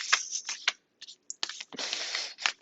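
Tarot-style playing cards are shuffled in quick riffling bursts, a few short flutters separated by brief pauses, close and crisp.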